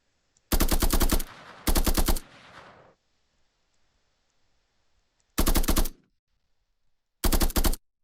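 A hip-fired weapon in an Unreal Engine 5 third-person shooter lets out four short, loud bursts of rapid automatic fire, each under a second long, separated by near silence and a brief fading echo after the second burst.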